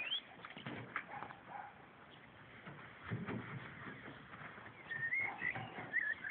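Birds chirp and twitter faintly at a distance, with occasional thin whistling calls over a soft, muffled outdoor background.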